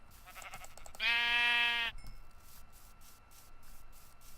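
A single clear sheep bleat in Minecraft, loud and near, lasting about a second, set against quiet background hiss and faint clicks.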